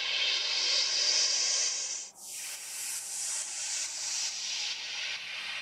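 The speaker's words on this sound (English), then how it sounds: "noise sweep up and noise down, which sound like this" A broad synthetic noise sweep rises in a steady airy hiss, dips out briefly, then swells back as a rushing whoosh that falls and drifts on as an atmospheric wash of noise, loud and alone.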